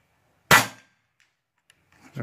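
A compact EDgun Lelya 2.0 .22 air rifle fires a single sharp, close shot outdoors, with a quick decaying crack and only faint sounds afterward.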